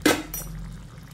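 A utensil stirs soya chunk curry with tomato and garam masala in a pan. It opens with a bright metallic clink, then a softer scrape and a faint sizzle that fade quickly.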